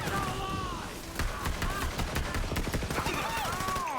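Rapid automatic gunfire from a gun in Borderlands 3, a steady stream of quick shots lasting several seconds, with whistling, sweeping game effects over the top and a busy background.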